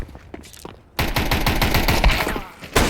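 Gunfire in a video game erupts as a loud, dense stream of rapid shots after a quieter opening, continuing almost without pause to the end.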